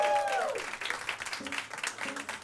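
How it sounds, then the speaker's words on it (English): Audience clapping for a guest on a late-night comedy talk show, moderate applause with a voice and band-like tones mixed in, fading slightly as it goes. "Clap it up one more time for Marie Faustin is late."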